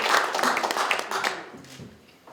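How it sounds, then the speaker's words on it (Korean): Applause at a Democratic Party Supreme Council meeting greets the Daegu city chapter chair, a council member stepping up to speak: a soft, dense patter of clapping from a small gathering that thins and fades within a couple of seconds. "박수로 한번 받으세요. 예, 박수 한번."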